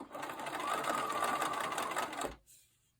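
A home sewing machine stitches quilt fabric for a baby quilt, a close, steady whirring run of the needle lasting about two seconds before stopping abruptly, followed by a soft thunk.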